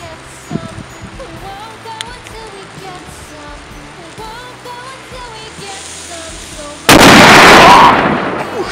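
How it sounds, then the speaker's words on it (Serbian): A loud, sustained burst of crackling explosions erupts near the end, following a stretch of quieter background noise with faint voices. "sve ove petarde koje su sad pukle"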